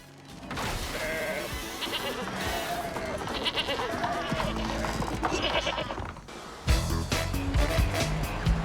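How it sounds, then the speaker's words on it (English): Several goats bleat in bursts over a steady rumble of a running car, heard from inside, the calls fairly close and overlapping at times. "Here come the goats."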